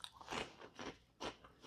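Homemade caramel puff corn is crunched and chewed close to the microphone, with three or four crisp, crackling bites at uneven intervals and no talking.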